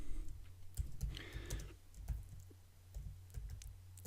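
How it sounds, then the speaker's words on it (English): Computer keyboard typing while a caption is entered in Lightroom, with quick irregular clicks and short bursts of keystrokes, close and fairly quiet over a low steady hum. "And we can type in something in there."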